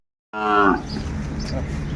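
A single Sahiwal bull lets out a short, clear moo close by, followed by quieter ambient rustling.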